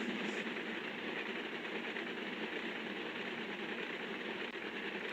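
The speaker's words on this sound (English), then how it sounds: "a freight train going past." In Train Sim World, a steady, rushing rumble of a freight train rolling past at speed, continuous and dense without breaks, at a moderate distance.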